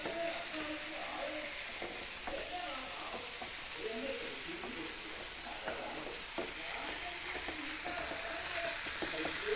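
Chicken sizzles and fries steadily in a pan while a utensil scrapes and stirs it in irregular strokes, close and continuous, with no one talking.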